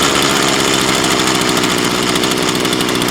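A Craftsman 19-inch 25cc gas hedge trimmer runs loudly and continuously close by, its small two-stroke engine buzzing as it hunts up and down in speed.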